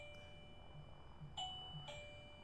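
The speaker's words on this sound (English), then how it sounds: "Hopefully someone will get the doorbell." A doorbell chimes twice indoors, two faint electronic dings about half a second apart over a low background hum.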